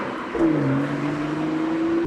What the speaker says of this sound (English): There's nothing better than an exhaust note like that that just brings out the energy in your driving